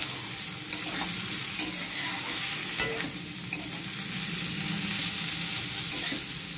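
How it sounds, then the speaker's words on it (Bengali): Thinly sliced potatoes fry in a pan, a steady loud sizzle running throughout while a utensil scrapes and stirs them in regular strokes, roughly once a second. "অনেকক্ষণ ধরে নাড়াচাড়া করতে হবে।"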